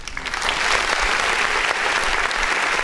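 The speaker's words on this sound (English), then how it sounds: "hit this button right here, which allows me to clap" A canned applause sound effect, played from a button on a music review show, gives dense crowd clapping that stays steady and loud for its whole length.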